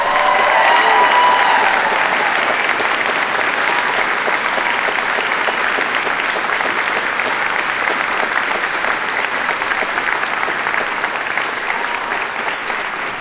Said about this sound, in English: Please join me in a round of applause for these very special cast members.